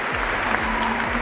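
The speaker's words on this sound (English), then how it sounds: "it's applause" Applause at an awards event honoring powerful women and girls, a steady wash of clapping from a crowd, brief and even in level.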